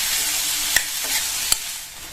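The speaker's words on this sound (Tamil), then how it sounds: "இதை இதுல சேர்த்துட்டு நல்லா ஒரு 2 நிமிஷத்துக்கு ஹை ஃப்ளேம்ல வச்சு வதக்கிக்கங்க" Onions and spices sautéed over a high flame in a pan for kulambu, a steady sizzle with two sharp spatula knocks against the pan, close and moderately loud.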